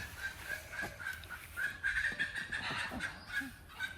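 A hen clucks repeatedly after laying an egg, in a steady, insistent rhythm, close by, with faint farmyard background and no talking.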